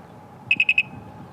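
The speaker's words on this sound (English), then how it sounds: "The alarm is off, alarm is on." Four quick, high electronic beeps in a steady rhythm from a Pandora motorcycle alarm arming, close and clear, over quiet background hum.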